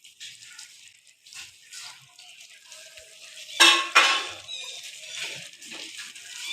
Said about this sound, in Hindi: थोड़ा सा मैं इसमें पानी डाल दूँगी और इसमें मैं अब हरी मिर्च डाल दूँगी।